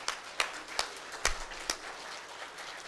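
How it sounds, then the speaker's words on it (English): Scattered, faint handclaps from an audience at a 2013 meritorious awards ceremony, about five separate claps spread over a few seconds rather than sustained applause. "Okay, you're still clapping."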